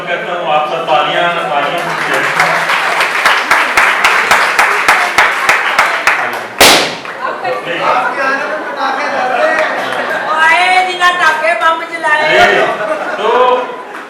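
Audience at a May Day rally for domestic workers claps in steady, rapid rhythm under loud amplified speech, crowd chatter mixing in as the clapping fades and a voice keeps talking.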